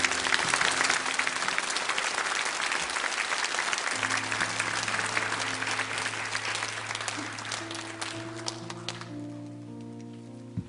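A church congregation applauds loudly and steadily in a large hall, then the clapping thins and fades out near the end as soft sustained organ or keyboard tones take over.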